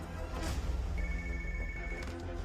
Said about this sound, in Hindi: सोफिया, तुम ALX ऑफिस को फोन करो, जरा उनसे इंक्वायरी करना।